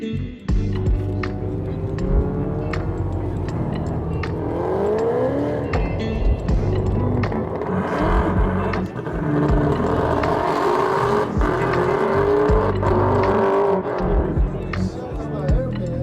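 Cars running the autocross course at the SEMA show, with engines revving and tires squealing through loud continuous crowd noise and talk nearby.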